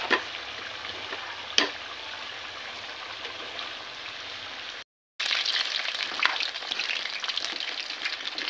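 Small-cut sweet potato (camote) pieces fry with sugar in hot oil, giving a steady, dense sizzle. It bubbles along continuously with a brief sharp pop, a short break, then a louder, busier stretch of crackling.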